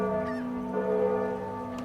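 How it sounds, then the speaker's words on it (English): Seagull calls serve as an ambient sound-effect bed, steady and continuous, with church bells layered on top as sustained ringing tones, full and even throughout with no talk. "the seagulls were the ambient bed"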